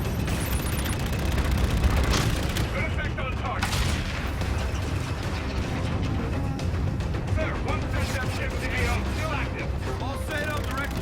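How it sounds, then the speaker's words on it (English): Dense, continuous rapid machine gun fire in Call of Duty: Infinite Warfare, loud and sustained for the whole stretch, with someone talking over the shooting. "But the main machine guns, that's me doing that."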